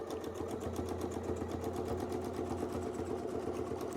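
A sewing machine stitches fabric with a steady, fast rhythmic whirring and needle clatter, continuous and fairly quiet, with no one talking.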